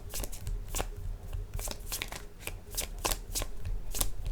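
Tarot cards are shuffled close by in quick, repeated riffling bursts, crisp and fairly loud, with no talking over them.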